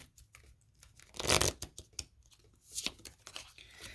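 Tarot cards are shuffled by hand, producing bursts of papery riffling and scraping with a louder flurry in the middle and softer rustles around it.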